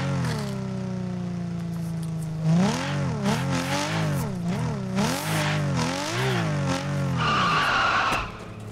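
A Toyota Supra drifting in the video game Torque Drift 2, with a steady engine drone followed by a wavering, repeated tire screech as the car slides through corners, loud and close, fading at the end.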